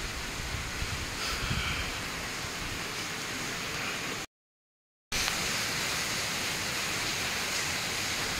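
Heavy rain pours steadily through a stormy night, a dense loud wash with wind in the garden trees, cut by a brief silent gap midway before the downpour resumes.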